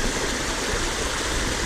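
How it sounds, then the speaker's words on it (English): Steady, broadband rush of running stream water beneath a bridge, loud and close, constant without pauses or talk. "We're at the running water."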